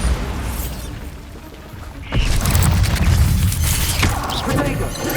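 A Bombarda spell bursts in Hogwarts Legacy: after a quieter stretch, one heavy boom lands about two seconds in, then rumbling and crackling debris carry on to the end.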